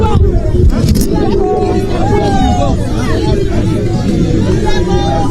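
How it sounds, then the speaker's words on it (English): Unruly crowd packed around an Electoral Commission press conference, a dense, loud babble of many overlapping voices and shouts with close-up chatter continuing steadily throughout. "The crowd is getting uncontrollable here."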